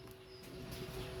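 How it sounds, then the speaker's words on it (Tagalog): Birds cooing with a short, higher call among them, at moderate distance in an outdoor setting, heard alone without talking over a steady background. "nag-aaway na yung mga ibon,"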